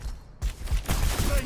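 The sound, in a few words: Hazard's weapon shooting in the video game Overwatch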